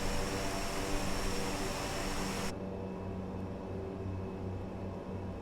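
Steady broadband whine and hum of an ATR 72-600 turboprop taxiing in a flight simulator game, loud and continuous, with the high hiss suddenly dropping away midway while the low engine drone carries on.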